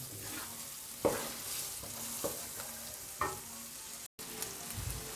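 Daal with masala sizzles quietly in a pan while a spoon stirs it, giving several distinct scraping strokes about a second apart over a soft, steady frying hiss, with no voices.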